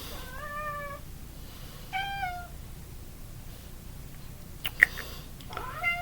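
A cat meows three times at a distance, short rising-falling cries spaced a couple of seconds apart, with a sharp tap in between and quiet background.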